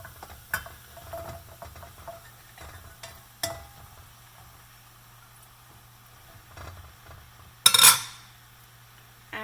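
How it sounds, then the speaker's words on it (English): Chopped mushrooms tipped into a simmering masala and stirred in a pan, with soft scraping and tapping throughout and one sharp, loud clatter near the end. "Now I am going to add the chopped mushrooms."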